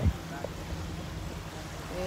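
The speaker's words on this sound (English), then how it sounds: "The waves are coming in." Ocean waves roll in at Hyannis, Cape Cod, as a steady, even wash of surf with a low rumble beneath, heard from the shore.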